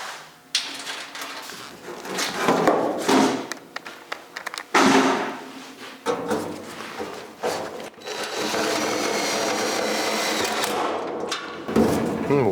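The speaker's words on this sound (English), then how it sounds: "Get a couple screws in there." Screws are driven into the door striker of a 1956 Windsor being rebuilt as a two-door muscle car, heard as several close, loud bursts of a power driver whirring, separated by short pauses and ending in a longer steady run.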